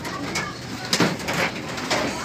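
Pigeons coo in a loft, soft repeated calls over a steady rustling background, with a few brief louder bursts.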